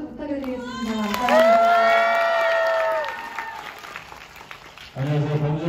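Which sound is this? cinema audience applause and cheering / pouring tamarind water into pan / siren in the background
cinema audience applause and cheering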